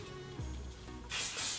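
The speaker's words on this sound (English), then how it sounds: "And then I put my hair to the front and then just spray the back of my hair." Hairspray sprayed onto the back of curly hair, a short bright aerosol hiss bursting in after a moment of low handling noise and lasting under half a second.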